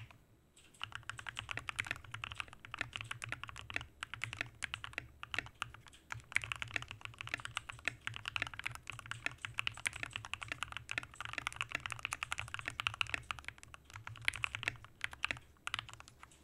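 Typing on a newly built mechanical computer keyboard, a quiet, fast run of clicky keystrokes with brief pauses, heard close and alone without talk.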